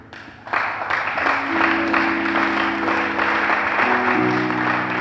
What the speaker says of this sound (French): j'aime pas les applaudissements